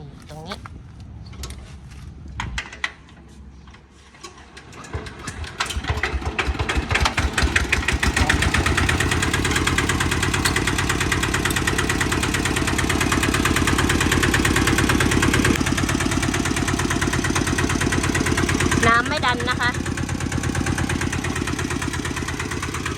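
A Kubota ZK8 diesel engine on a rotary tiller idles and then runs steadily, a loud, close, continuous mechanical rumble with vibration.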